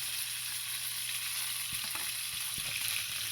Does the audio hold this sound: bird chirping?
no